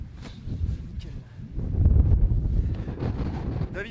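Strong wind gusts across the summit of the Pic du Midi d'Ossau, rumbling and buffeting the mic in a rising, roaring swell.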